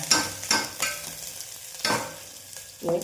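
Ginger sizzling in hot oil in a pan for egg curry, with several sharp stir-and-scrape bursts over a steady close frying hiss and no talk.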